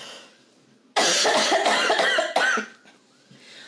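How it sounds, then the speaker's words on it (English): A person coughs in a hard, close burst of several rapid coughs, then a further single cough and some faint breathing, with a brief spoken sound at the start. "so sorry for the coughing that will be happening throughout this episode"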